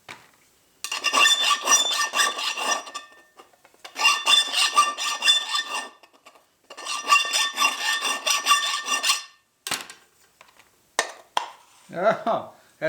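Chainsaw file rasping back and forth on metal, three long bursts of steady strokes close by, followed by a few short scrapes and a brief voice.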